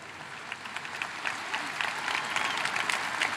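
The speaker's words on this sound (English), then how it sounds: "Yes, parents, you should be applauding" A crowd at a 2023 high school graduation ceremony, Parkway Central, applauds steadily, the clapping heard from some distance and growing a little louder and denser as it goes on.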